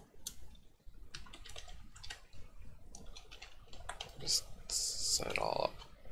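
A computer keyboard is typed on while programming a ZZT game, with scattered bursts of close, light key clicks in an irregular rhythm, running under a voice speaking throughout.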